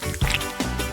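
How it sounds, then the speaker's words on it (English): Melted gummy bear liquid poured into a Labubu mold gives thick, sticky glugs and squishy drips, fairly close and loud, with two heavier plops standing out. "Before it dries, pour it into the mold."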